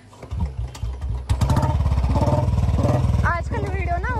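A Royal Enfield Bullet motorcycle is kick-started and settles into a loud, close, steady thumping idle, with voices talking over it.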